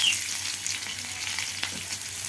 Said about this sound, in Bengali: এবার দিয়ে দিচ্ছি রসুন আর পেঁয়াজ কুচানো,